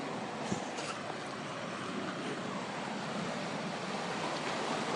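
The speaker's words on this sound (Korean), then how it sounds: "파도 소리 들리시나요?" Ocean surf at night on the shore at Aewol, Jeju Island, a steady broadband wash of waves rolling in with some wind noise, continuous and moderately quiet with no voices.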